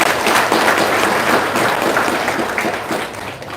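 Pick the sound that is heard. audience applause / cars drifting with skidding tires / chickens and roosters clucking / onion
audience applause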